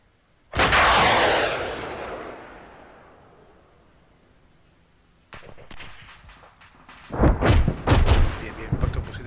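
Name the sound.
gunfire at an armored vehicle in the video game Arma 3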